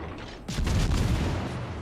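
Naval shell fire from warship guns in the video game World of Warships: a sudden loud broadband blast that rolls on as a heavy, sustained rumble.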